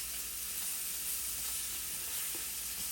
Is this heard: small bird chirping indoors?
no